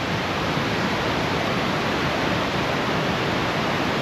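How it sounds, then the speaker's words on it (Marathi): The Kalmandavi waterfall near Jawhar rushes with a dense, steady roar. The close, unbroken wash of falling water holds at the same level throughout, with no voices. "आता तुम्हाला मी दुसरा धबधबा दाखवतो."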